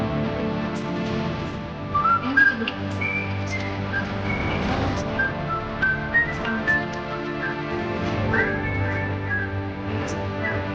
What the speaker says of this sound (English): Everyone knows the tune, that cheerful whistle that ends every episode